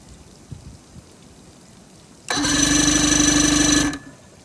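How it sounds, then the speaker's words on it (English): An outboard motor on a boat cranks over with no choke applied, a loud steady mechanical churn starting abruptly and running about a second and a half before cutting off, without firing into a sustained run. "I'm going to try to start it without giving it any choke or anything"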